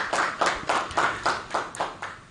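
Investors at a company annual general meeting clapping in applause, heard as a run of rhythmic, fairly even hand claps that carry on steadily and fade slightly toward the end.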